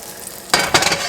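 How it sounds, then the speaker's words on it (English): Tomatoes hit a hot pan of melted butter at medium-high heat, breaking into a sudden close sizzle with a few sputtering bursts after a quiet start. "cook the tomatoes on about medium high to begin with to get the butter melted"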